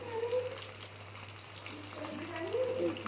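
Fish frying in a pan of oil, a steady soft sizzle and bubbling running through the whole stretch at moderate level with no voices.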